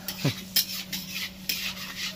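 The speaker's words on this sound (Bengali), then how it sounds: "এবার দিয়ে জিরেটাকে রসুনের সাথে ভেজে নেব। শোনা যাচ্ছে?" Whole cumin and garlic fry in a pan as a utensil scrapes and stirs in a few sharp strokes over a faint, steady sizzle, with no talking.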